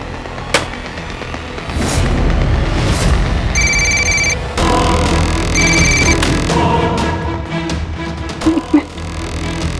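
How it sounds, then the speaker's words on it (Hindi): A telephone rings in repeated electronic bursts in a TV drama scene, loud and close, over a busy background of rumbling music and noise. "सुन, टेलीफोन है।"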